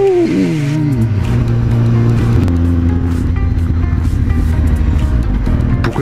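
A motor vehicle engine drones loud and steady close by, its pitch falling briefly at the start and then holding at one constant note without any gear change.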